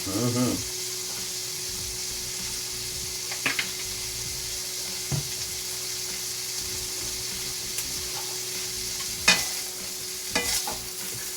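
Pork sizzles steadily in a pan over high heat, a constant bright frying hiss with a few brief clicks and scrapes near the end.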